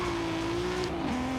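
Toyota Camry NASCAR race car with a 2JZ engine in Forza Horizon 5, held at a steady high engine drone while it slides into a drift, a sustained tire squeal riding under the roar before a brief pitch dip near the end.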